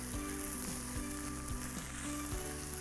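Rice sizzles and crackles in a hot pan while toasting for Uzbek pilaf, a steady close frying hiss with faint periodic stirring scrapes, no talk.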